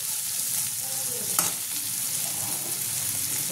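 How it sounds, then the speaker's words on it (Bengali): Boiled chow mein noodles go into a hot frying pan with onions, giving a steady close sizzle and frying hiss, with one brief clatter partway through. "এবার এর মধ্যে আমি চাউগুলো ছেড়ে দেবো।"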